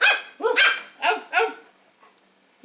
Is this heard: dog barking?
yes